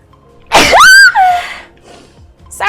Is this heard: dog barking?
no